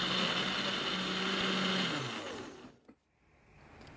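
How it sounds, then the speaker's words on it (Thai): A blender purees jackfruit with coconut milk, whirring steadily at high speed, then winds down and stops, leaving quiet motor hum. "โดยกวนจะเทเนื้อขนุนใส่เครื่องปั่นไว้ค่ะ ตามด้วยน้ำกะทิ และจะปั่นให้ละเอียดเลยนะคะ"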